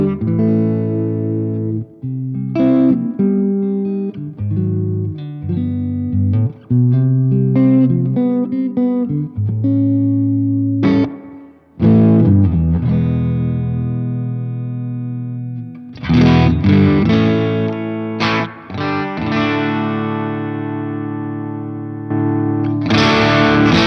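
An electric guitar played through a Laney IRF Dualtop 60W amp in a studio, loud distorted chords and riffs with sustained notes, short pauses between phrases and a brighter, denser strummed passage near the end; no voices.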